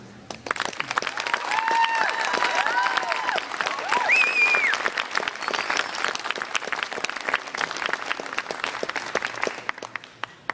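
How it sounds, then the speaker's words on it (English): A graduation commencement audience breaks into sustained applause, a dense wash of clapping that swells, holds steady for several seconds, then thins out with scattered last claps. "I think you all owe them a round of applause."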